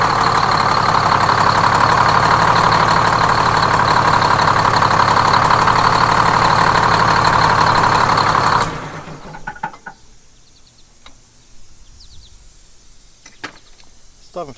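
A rebuilt Detroit Diesel 6-71 inline diesel, in-frame overhaul, runs loud and steady with a dense mechanical drone for about nine seconds, then shuts down abruptly, leaving faint clicks and small sounds afterward.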